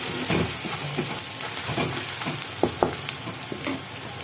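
Chicken with whole garlic cloves fries loudly in a pan as spices go in, a close, constant sizzle broken by a few soft stirring scrapes and taps, with no voices.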